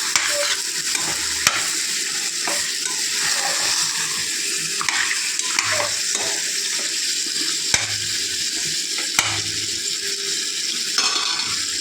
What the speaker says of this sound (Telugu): చికెన్లో నీళ్ళు ఉంటాయి కదండి, అవన్నీ ఎగిరిపోయే వరకు ఉడకబెట్టుకోవాలి.